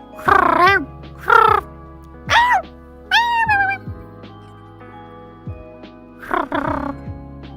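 A person imitates a cat with a string of about six drawn-out, pitch-bending meows, fairly close and loud, with short pauses between them over a steady low background hum.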